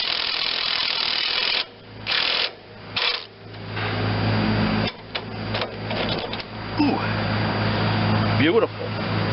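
A ratchet tightens a stainless steel lock nut on a Vermeer 625A chipper's safety chain, giving rapid close pawl clicking in repeated strokes with short pauses, loud and up close, with a person talking over it.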